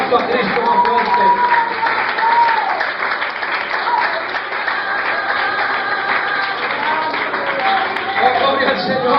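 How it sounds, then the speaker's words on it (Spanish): A church congregation applauds loudly and steadily for several seconds during an evening worship service, a dense wall of clapping with voices mixed in. "Dale ese aplauso a Cristo más fuerte."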